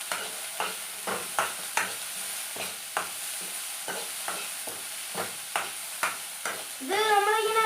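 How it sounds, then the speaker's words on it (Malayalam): Ingredients are sautéed in a pan under a steady, soft sizzle, with a spoon scraping and tapping against the pan in a regular rhythm throughout and a brief burst of louder frying at the end. "നല്ലതായിട്ടൊന്ന് വഴറ്റിയെടുക്കണം."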